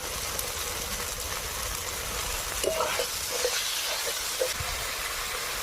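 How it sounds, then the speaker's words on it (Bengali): Tomato and salt go into a cumin and coriander spice paste frying in oil for a goat-meat curry, producing a steady close sizzle with brief stirring scrapes and soft clatter, with no talking. "মশলার মধ্যে তেল ছেড়ে দিয়েছে এবার দেবো কিছুটা পরিমাণে টমেটো স্বাদ মতো লবণ"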